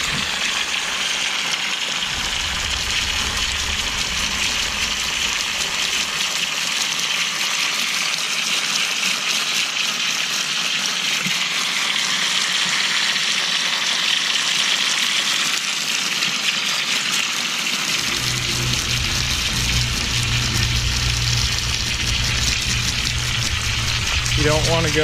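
Hose spraying water over a newly seeded lawn topped with peat moss and starter fertilizer, a steady broadband hiss throughout with a low rumble that shifts partway through.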